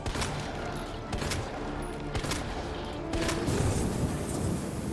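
Grenade launcher fire and explosions in Resident Evil 2, a rapid string of sharp booming blasts and bursts over a dense, rumbling game soundscape.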